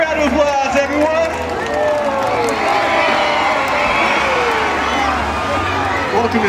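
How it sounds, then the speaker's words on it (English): Crowd cheering and shouting with some clapping at a SeaWorld San Diego killer whale show, a loud, busy wash of voices with children's shouts and an announcer speaking over it. "applause, everyone!"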